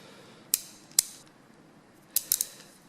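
A 45-tooth ratchet wrench gives crisp, close metallic clicks: two single clicks about half a second apart, a pause, then three in quick succession.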